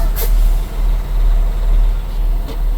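A truck brakes at about five miles per hour during a service brake test, with a short hiss from the air brakes at the start and again near the end over a steady low engine idle.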